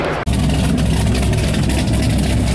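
Ferrari 458 Italia engine idling close by, a loud, steady low rumble that continues after a brief cut near the start.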